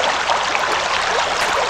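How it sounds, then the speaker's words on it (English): Water pours steadily into a canteen in the video game Anna, a continuous trickling, gurgling stream heard up close and fairly loud with no talk over it. "we can fill the canteen with water."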